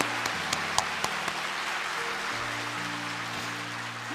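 Congregation applause during an early-morning church revival service, a few sharp distinct claps early on, then a thin scattered patter under sustained organ or keyboard chords.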